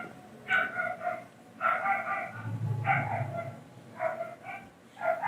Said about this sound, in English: my neighbor's dog is going ballistic